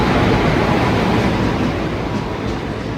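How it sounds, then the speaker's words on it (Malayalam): The Palaruvi Express, hauled by a WP1 locomotive, rolls into a station with a loud, steady roar of wheels and rushing noise close by that eases slightly as it slows. "പാലരുവി എക്സ്പ്രസ് വന്നിരിക്കുകയാണ്."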